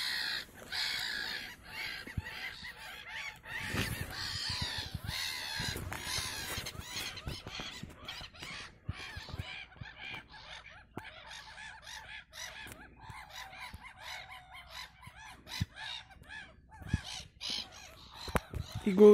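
Gulls calling in a flock, gathered in a circle with pigeons nearby, cawing cries scattered across a noisy outdoor scene, moderately distant, with some talk mixed in.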